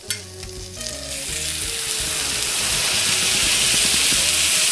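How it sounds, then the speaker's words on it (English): A bacon-encrusted smash burger sears over a flame. The loud, dense frying sizzle builds and grows steadily stronger, close and continuous, with no talking. "So right over the flame and right over the flame. Let that sear a little bit."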